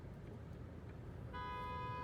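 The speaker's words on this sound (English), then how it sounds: "They're honking" Car horn honking on the road from inside a moving vehicle, a sustained steady tone entering partway through over the low rumble of driving.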